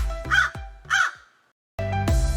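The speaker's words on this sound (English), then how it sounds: "see what makes crows caw so much." A crow gives two loud, harsh caws close by, then a brief silence before another raspy call begins.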